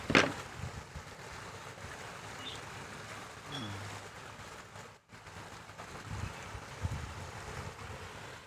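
The sea rises with the incoming tide, washing against rocks below a house balcony. The waves come as a soft, continuous surge with gusty wind buffeting the microphone.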